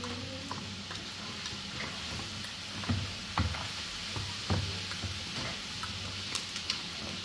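Spoon stirring chaat masala into yogurt in a bowl, with soft scattered clicks and scrapes of the spoon against the bowl's side, fairly quiet and close, with no talking.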